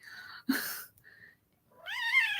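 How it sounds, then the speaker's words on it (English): A pet cat meows twice indoors, a short close call followed by a longer, rising drawn-out meow, with quiet pauses between. "This is a meow meow."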